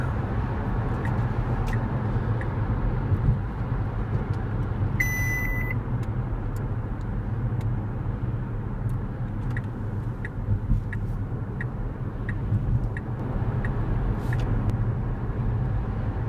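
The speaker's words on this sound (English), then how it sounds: "This car is a fun little car to drive" Steady road noise and engine hum from inside a moving 2014 Tesla Model S, continuous and even, with occasional faint clicks and a short beeping tone.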